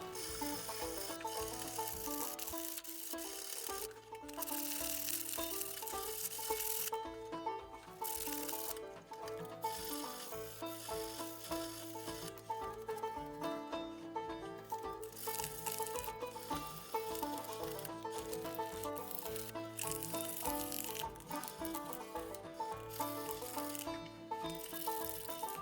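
Sandpaper is worked by hand across the handle scales of a 5160 steel drop point recurve chopper knife. It makes a steady back-and-forth rasping close by, with uneven rhythmic strokes throughout.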